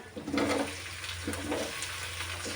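Tomatoes sautéing in a pan with curry leaves, onion and broad beans for broad bean thokku: soft, close sizzling and hissing with a few faint stirring scrapes, brief and alone.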